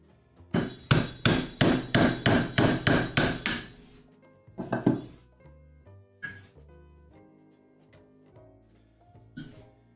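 Hammer driving a chisel into wood while cutting Japanese joinery for a sawhorse: a quick run of about ten loud, evenly spaced strikes, then a pause and a few scattered, fainter blows.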